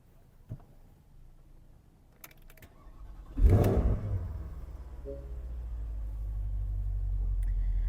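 A 2012 Porsche Panamera GTS is started from inside: a few faint clicks and key sounds, then the starter catches and the engine flares loudly before settling into a steady, rising idle rumble.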